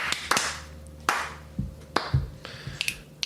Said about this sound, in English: Should we clap? We should clap.